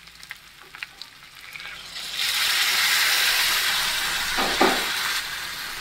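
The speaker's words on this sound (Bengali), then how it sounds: "আমি পরিমাণ মতো একটু ওই যে জলটা ছিল সেদ্ধ জলটা আমি দিয়ে দিচ্ছি।" Boiled water hitting frying mutton in a pan sets off a loud, sustained hiss of sizzling that swells after a quieter start and holds steady, with a brief stir or clatter near the end.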